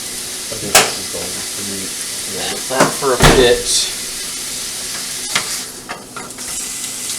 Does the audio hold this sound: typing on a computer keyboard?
no